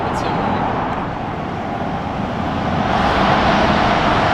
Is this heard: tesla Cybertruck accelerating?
yes